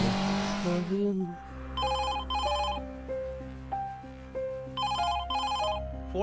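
An electronic ringtone plays a repeating melodic pattern in bursts over a low hum, after a brief voice-like sound at the start.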